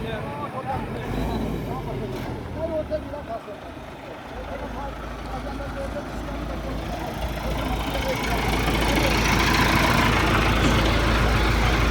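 A Millat MT 390 tractor engine runs at a steady idle nearby, its low rumble continuous and growing somewhat louder toward the end, with someone talking over it at times.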